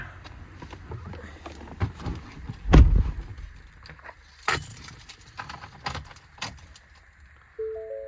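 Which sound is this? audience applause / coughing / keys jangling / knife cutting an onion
keys jangling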